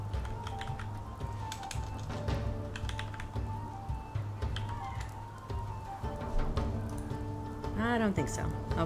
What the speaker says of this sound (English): What if we just start typing some things?